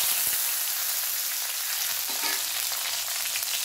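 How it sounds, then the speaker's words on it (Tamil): Fennel seeds and onion tempering in sesame oil in a kadai give a steady, close, even sizzle with a faint crackle throughout. Nobody speaks. "இப்போ நான் கடாயில் நல்லெண்ணெய் விட்டுருக்கேன். தாளிப்புக்கு கொஞ்சமாக சோம்பு போட்டுக்கலாம்."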